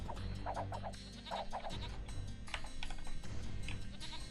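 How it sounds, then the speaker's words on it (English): Goats in Age of Empires 2 give a few short bleats in quick clusters, moderately near, over a low game hum with faint clicking. "Oh, there's some goats as well."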